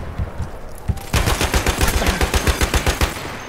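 An M1917 machine gun fires in Battlefield 1, loud and close. After a brief quiet start it breaks into a sustained, rapid, evenly spaced stream of shots that lasts to the end.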